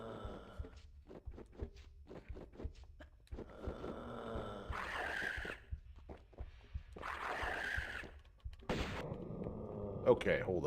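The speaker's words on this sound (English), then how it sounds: "try this again with the shotgun active" Repeated heavy gunshot blasts from a shotgun in the video game Tomb Raider Remastered, several loud booming bursts spaced out among game ambience and rumbling.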